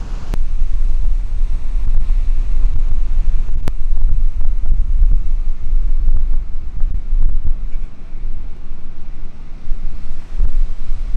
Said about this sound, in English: right now there's not that much wind here at the beach